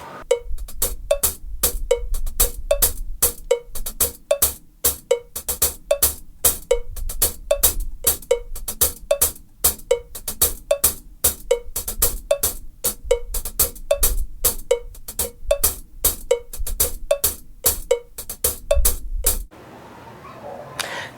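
A cowbell playing the Adowa groove from African gospel drumming, two interlocking parts combined into a fast, steady metallic pattern of sharp repeated strikes, close and loud, stopping near the end with no speech.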